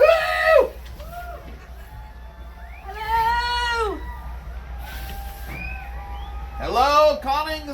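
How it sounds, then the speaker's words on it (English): Passengers on two cruise ships, including the Koningsdam, shout and cheer to each other across the water on an Alaska voyage. Distant whooping calls come in a few separate bursts over a low, steady background rumble. "A lot of cheering going on between ships."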